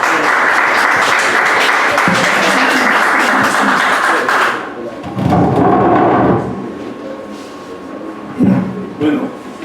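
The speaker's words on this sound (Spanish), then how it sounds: "Un aplauso para Alberto, por favor." An audience at a talk in Iquitos applauds the speaker Alberto Chirif, a loud, dense wash of clapping for about four seconds that then drops away, with brief bursts of clapping and murmuring voices afterward.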